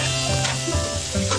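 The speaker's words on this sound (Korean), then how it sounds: "고추장을 듬뿍 넣고 고기를 볶는데요." Meat stir-frying with a generous amount of gochujang in a pan, giving a steady close sizzle with scraping stirs, in a home-style kitchen in southwestern China.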